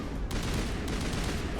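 Rocket turret firing in Mass Effect 1, a dense, loud barrage of blasts and booms that fills the whole moment without letup.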